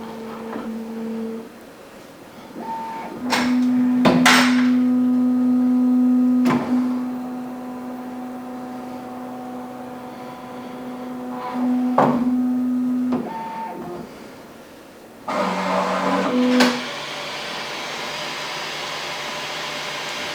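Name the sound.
Bambu Lab X1 Carbon 3D printer running calibration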